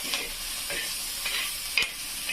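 Green chillies fry in a pan for a Maharashtrian moong pod vegetable dish, making a soft, steady sizzle broken by a few light crackles and stirring scrapes, quiet and close, with no talking.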